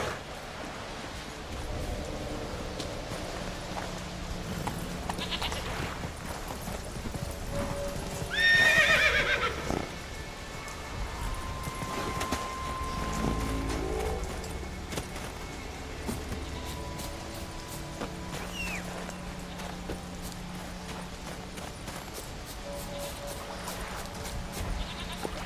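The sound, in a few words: Roach the horse neighing and trotting in The Witcher 3 video game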